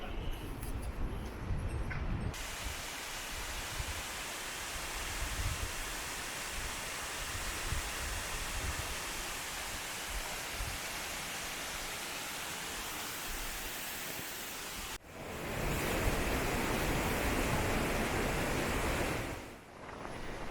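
Steady broadband rush of a waterfall on the Everest Base Camp trek in the Himalayas, loud and continuous with a brief dip partway through, no talk over it.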